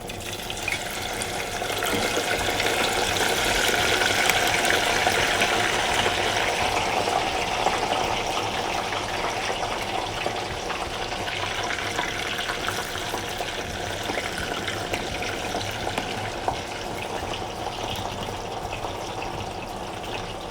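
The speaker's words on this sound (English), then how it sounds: "So I'm adding my oil. This is canola oil." Canola oil pours from a container into a frying pan to get ready for deep-frying yam. The liquid streams in a soft, continuous flow for about twenty seconds at a steady level, with no talking.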